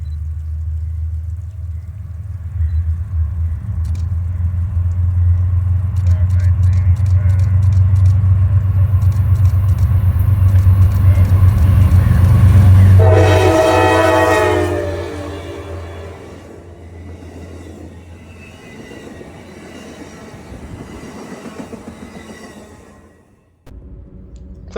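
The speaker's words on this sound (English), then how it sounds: "The grade would be of no match for this old veteran locomotive, as it hurries the Cardinal towards its next stop of Clifton Forge, Virginia" An Amtrak Cardinal passenger train led by an old veteran locomotive hurries up the grade at the Allegheny summit, its loud diesel rumble building and holding before a strong horn-like tonal blast, then the rumble fades away.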